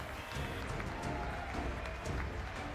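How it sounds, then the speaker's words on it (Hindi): Lawmakers in the US Congress hall applaud President Trump's address, a distant, diffuse roar of clapping and crowd noise that stays steady and muted throughout. "हॉल तालियों से गूंज उठा"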